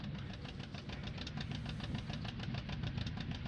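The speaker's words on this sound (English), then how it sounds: "I guess we got another tractor, a little baling tractor there." A tractor engine in Farming Simulator 19 idles with a steady, rapid knocking throb, loud and continuous throughout, with no talk over it.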